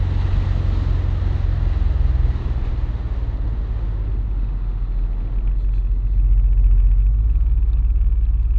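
Heavy wind buffeting roars past the rider on a Honda DN-01 motorcycle fitted with a windscreen, a loud, constant low rumble of wind and engine noise throughout, with no talking.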